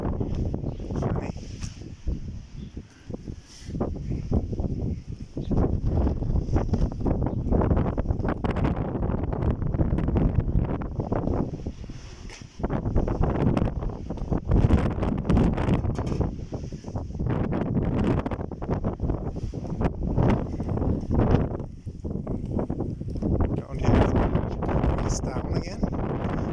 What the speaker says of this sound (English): And you hear the wind now.